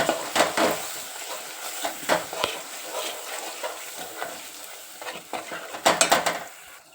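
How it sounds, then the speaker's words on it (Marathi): Ground masala paste fries in oil in a pan for Puneri misal, a soft continuous sizzle broken by repeated scraping and clinking of a spoon against the pan, fairly close. "हे वाटण वाटलेलं आहे ना हे टाकणार आहोत छान असं मस्तपैकी परतून घ्यायचं ते अगदी तेल सुटेपर्यंत"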